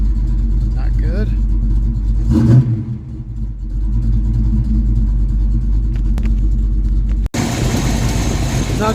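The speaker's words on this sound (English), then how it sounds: "That's actually a pretty healthy sounding 700 idle right there. Ooh, nope. Ooh, backfiring badly." A Ford 302 V8 with a carburetor and timing problems idles with a deep steady rumble near the microphone, then backfires with a sharp pop, while someone talks over it.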